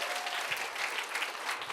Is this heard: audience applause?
yes